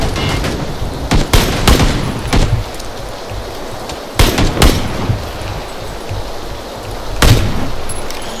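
Bursts of rapid gunfire crackle in a PUBG battle royale match, clustered shots at several moments over a constant noisy background, loud and close with no clear speech.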